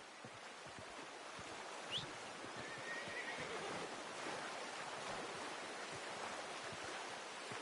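A horse neighs in the Red Dead Redemption 2 video game, a brief whinny standing out over a quiet outdoor ambience of wind or water and soft hoof clops, fairly faint and distant.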